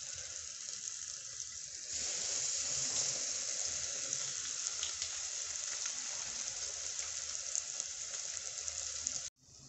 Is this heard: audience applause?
no